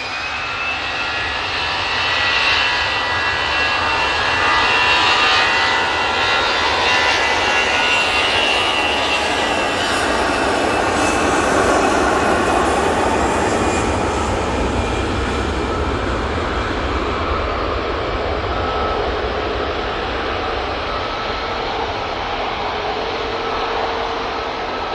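An easyJet passenger jet rolling for takeoff at Manchester Airport, a loud, steady engine roar with a broad rushing hiss that holds strong throughout and fades slightly toward the end.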